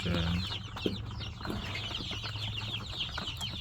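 Chickens clucking and fluttering around a feeder, with short close clucks and faint wing flaps over steady low background noise.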